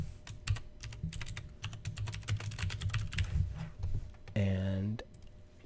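Rapid clicking of a computer keyboard as someone types a name with a vector drawing tool's text feature, fairly close, with a brief talking voice near the end.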